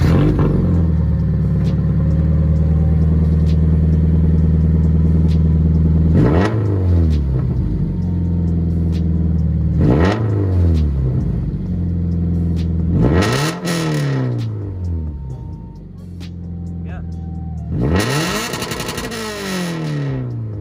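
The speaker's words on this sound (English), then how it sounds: "they took out the resonator, so there's a lot of rasp, and the muffler is not connected" A car running a Tomei unequal-length header and an aluminum mid-pipe with the resonator removed and the muffler disconnected gives loud, raspy revs, with several sharp throttle blips rising and falling over a rumbling idle.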